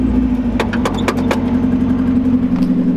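A car engine hums steadily at a low, even pitch from inside as the car moves off, with a series of sharp clicks and knocks over the first second and a half, loud and close.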